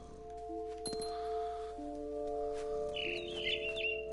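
Bird chirps in What Remains of Edith Finch, a few faint high calls near the end over quiet tonal game ambience and a soft clink early on.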